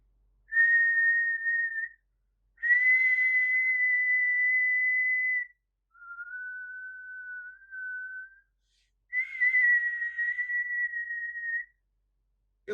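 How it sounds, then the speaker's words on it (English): A person whistles four sustained pure-toned notes at around 2 kilohertz, separated by short silences, the third note slightly lower and softer, each clear and close. "I'm going to whistle and I'm going to set uh, the frequency for my whistle at 2 kilohertz"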